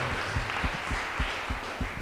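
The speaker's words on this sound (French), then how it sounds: "qu'on peut les applaudir" An audience in a town-centre event space applauds an association with steady, moderate clapping. Individual claps fall in a loose, regular pattern, close and fairly soft, above a light background murmur.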